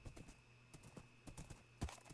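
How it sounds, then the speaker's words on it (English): Horse hooves clip-clop in the Minecraft video game, a quiet scattering of soft hoofbeats with one sharper, louder step near the end. "So let's get our horse over here."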